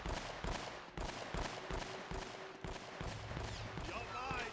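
Covering gunfire in Uncharted: Drake's Fortune, a steady run of quiet repeated shots with a faint hum and some whistling sounds near the end.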